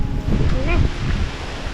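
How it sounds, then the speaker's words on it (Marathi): Strong wind gusts roar through a Konkan village, rushing steadily over trees and buffeting the microphone, with a brief voice rising above the noise partway through. "वारा का सुटला एवढा खतरनाक पारा सुटलाय"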